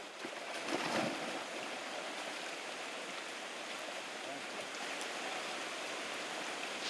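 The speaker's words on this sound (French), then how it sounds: "Une pluie torrentielle commence à tomber." Torrential rain in French Guiana hissing steadily, a dense continuous wash of falling water, fairly faint and even throughout.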